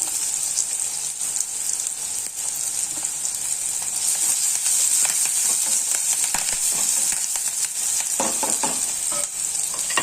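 Chopped onion sizzles loudly in hot oil in a home kitchen pan, with continuous frying crackle and scraping stir strokes throughout, some sharper spatula knocks near the end.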